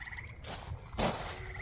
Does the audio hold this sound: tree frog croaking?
yes